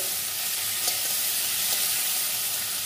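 Chopped tomato sizzles and fries in hot oil with cumin, stirred now and then, a steady close hiss with faint scraping, no voices.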